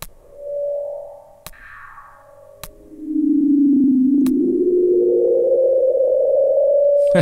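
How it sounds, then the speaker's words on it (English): Feedback sound design in Ableton Live with pre-delay set high: a gliding, sonar-like electronic tone that bends and wavers, punctuated by sharp clicks, then swells into a loud sustained rising drone, heard alone. "Let's turn the pre-delay up pretty high."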